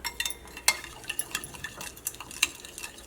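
Noodles being stirred into a soy sauce mixture, with a steady run of soft clinks and scraping taps from utensils against the bowl, close by and with no talking.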